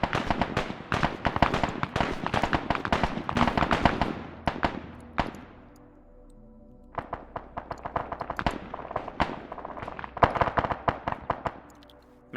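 Rapid bursts of gunfire from the Arma 3 military combat game, dense volleys of cracking shots for several seconds, a brief lull, then renewed scattered and clustered shots at close to mid distance.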